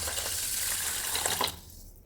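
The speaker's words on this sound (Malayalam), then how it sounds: "നമുക്ക് ഇതിനകത്ത് വെള്ളം ഒഴിച്ച് നോക്കാം" Water is poured into a bowl of rice that has been washed five times. A close, steady splashing pour lasts about one and a half seconds, then stops.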